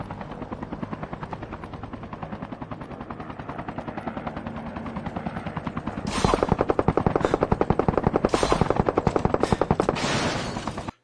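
Call of Duty Mobile battle royale match: a helicopter's steady rotor thrum runs throughout, joined in the second half by loud, sustained bursts of automatic gunfire.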